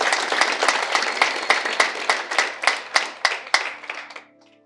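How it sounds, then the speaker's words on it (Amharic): A small audience in a coffee-ceremony gathering at an Addis Ababa head office claps in a rhythmic, evenly spaced beat of about a dozen loud, close hand claps that slow slightly and stop abruptly. "እስቲ አጨብጭቡ።"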